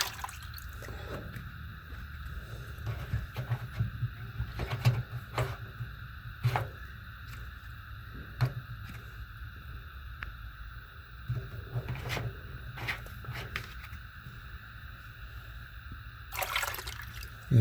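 Water drains from the filter of an RV Whirlpool washing machine into a towel, heard as a low steady trickle and patter with scattered louder drips and splashes and a few sharp knocks, with no one speaking.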